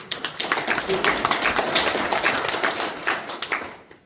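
An audience at a business forum lecture claps for about four seconds, a close, busy patter of many hands that fades out at the end.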